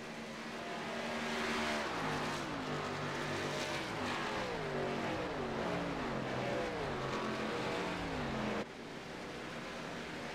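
A race car engine in the Cyber Racing sim game revs steadily, its pitch climbing and dropping repeatedly through gear shifts, loud and continuous for the whole stretch.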